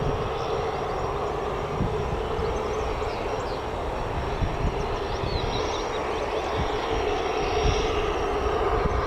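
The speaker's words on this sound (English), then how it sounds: "For those who might have missed a few of the aircraft leaving, I'll just replay one of them now" A departing airliner at Newcastle Airport, heard as a replayed recording, gives a broad, continuous jet roar that holds loud and steady throughout with no talk.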